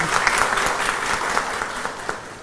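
Sustained audience applause fills a social media workshop certificates ceremony at ABAD House, with dense overlapping hand claps at steady loudness and a few sharper claps standing out throughout.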